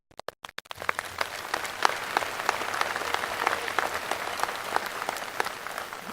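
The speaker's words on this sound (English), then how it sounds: "You can applaud." An audience at a university commencement ceremony applauds, starting with a few separate claps that quickly swell into sustained, even clapping across a large hall.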